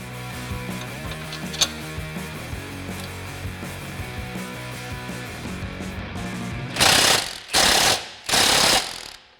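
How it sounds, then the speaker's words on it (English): A steady mechanical hum runs for several seconds, then three loud bursts of harsh drilling follow as a 1/8 inch pilot hole is drilled in a metal coilover bracket on a Camaro, each about a second, close and aggressive. "now I'm going to drill an 1/8 inch hole so I can get my hole started"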